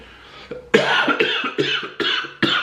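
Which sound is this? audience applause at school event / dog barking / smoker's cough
smoker's cough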